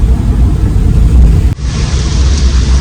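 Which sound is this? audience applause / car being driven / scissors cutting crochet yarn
car being driven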